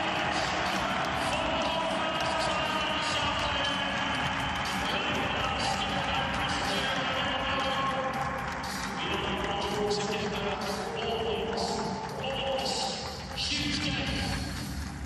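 Big stadium crowd roaring and cheering as Nottingham Forest and Tottenham Hotspur players walk out onto the pitch before a Premier League match. The noise is a loud, continuous wash of voices that swells and dips slightly throughout.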